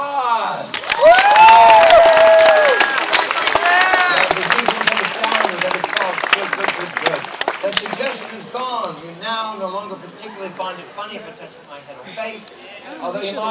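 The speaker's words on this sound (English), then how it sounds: "And sleep to the sound of applause." Audience at a Renaissance fair hypnotist show breaks into loud cheering, whoops and applause that swell near the start and then taper into scattered clapping and chatter, with voices shouting throughout.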